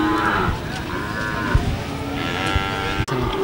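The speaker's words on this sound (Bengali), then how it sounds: "দুইটা কি দেশি ষাঁড় বাচ্চা?" Young local-breed bulls moo several times in drawn-out calls at a busy rural cattle market in Garobazar, Madhupur, loud and close, with no talk over them.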